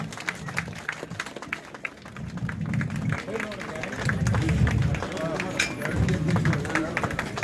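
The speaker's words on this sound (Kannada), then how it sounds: "ಎಲ್ಲ ಚಪ್ಪಾಳೆ ಮುಖಾಂತರ" Audience applause at an inauguration ceremony for a new primary health centre building, bursts of clapping from a crowd mixed with murmuring and voices nearby.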